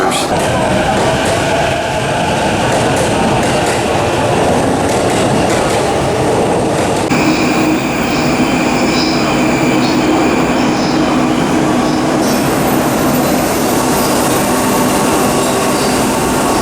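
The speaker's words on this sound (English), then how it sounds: "We're gonna catch a scenic train to the Yamaha headquarters." A local train in Japan rides a scenic line out of Yokohama, with a steady loud rumble of the carriage, rolling wheels and track noise, and a shift in tone partway through as the ride goes on.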